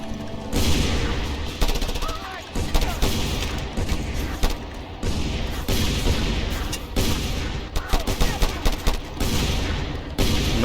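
Enemy soldiers fire shotguns in a war video game, sharp repeated blasts mixed with wider battlefield gunfire and booms in irregular bursts, with some talk underneath.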